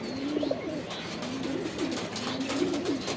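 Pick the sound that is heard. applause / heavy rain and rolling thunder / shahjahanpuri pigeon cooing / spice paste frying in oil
shahjahanpuri pigeon cooing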